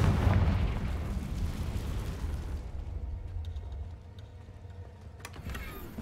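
The Confringo blasting spell explodes in Hogwarts Legacy with a loud, deep boom at the start that decays into a long rumbling tail, with small game effects toward the end.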